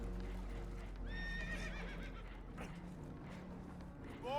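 Spooked horses whinny and neigh in Red Dead Redemption 2 aboard a damaged boat taking on water, several loud wavering calls rising over a constant low rumble of water and hull noise.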